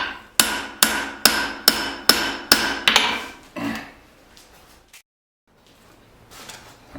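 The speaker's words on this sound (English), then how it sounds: "Alright, so I'm still kind of forging in the tip here." Hammer blows forging the bevels and tip of a spring steel blacksmith's knife: seven sharp, ringing strikes at a steady rhythm, close and loud, followed by a few scattered softer knocks and near silence.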